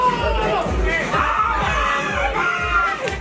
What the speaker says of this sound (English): Give GZ a round of applause